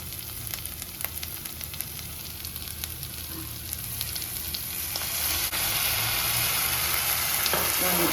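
Chicken and egg sizzle steadily in a hot pan for chicken fried rice, a dense continuous frying hiss with occasional stirring scrapes, growing slightly louder toward the end, no voices.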